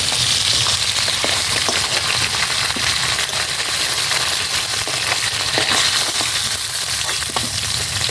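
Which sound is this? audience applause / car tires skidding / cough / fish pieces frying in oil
fish pieces frying in oil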